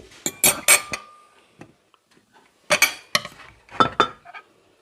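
Plates and cutlery clink and scrape in short clustered bursts as a Western-style meal of baked saba fish with lemon is plated at home in Germany, with quiet gaps between the handling sounds.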